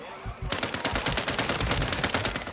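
Rapid automatic gunfire in a Call of Duty: Modern Warfare II Resurgence match, loud, evenly spaced shots rattling steadily for a couple of seconds after a brief lull.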